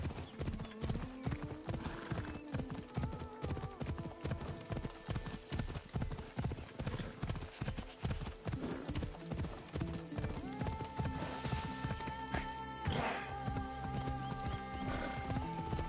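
Horse hooves in a video game clip-clop in a steady, quick rhythm throughout, moderately quiet, backed by music with sustained tones and an occasional whinny.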